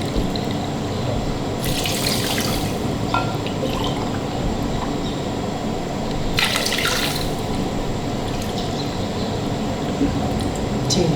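Water is poured into a pan to make syrup for semolina halwa. A steady liquid rush and splashing runs throughout, with two brighter bursts of pouring.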